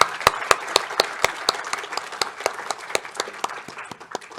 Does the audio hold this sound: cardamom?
no